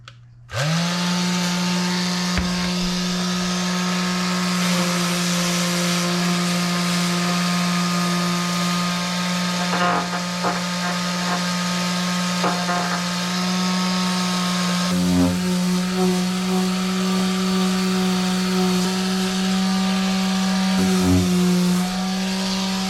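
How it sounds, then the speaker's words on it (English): A power sander runs continuously over a kitchen cabinet, its loud steady motor whine holding even throughout, with slight changes in load as it moves across the surface. "if I go over with a sander"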